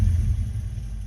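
A small engine with a coil tester fitted rumbles low and steady for a brief moment as it catches and runs, close and fairly loud with no voices.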